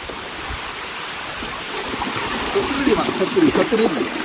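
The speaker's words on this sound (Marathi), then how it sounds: "आता पाऊस पण आलाय जोराचा" Heavy rain pours by a stream, a dense steady hiss of water that swells slightly, with a faint voice murmuring under it toward the end.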